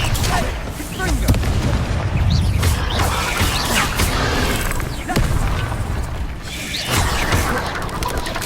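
Confringo fire-blast spells erupt in Hogwarts Legacy combat, a sustained barrage of loud, booming explosions and crashing impacts rolling on continuously, with brief sharper bursts standing out near the middle.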